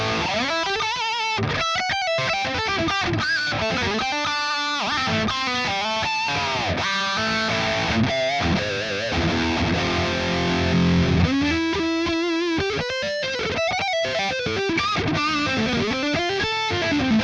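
Electric guitar played through a solid-state Diezel VH4 preamp pedal, heavily distorted and saturated, with riffs, held chords and bent single notes carrying on steadily at a loud, even level with no voices.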